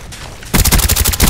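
Napalm strike in Call of Duty Black Ops lands as a sudden loud burst of rapid crackling explosions and booming impacts after half a second of quieter game noise.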